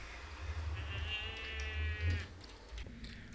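Goats bleat in Minecraft, a few wavering, nasal cries rising over a low background rumble, fairly faint and without talk.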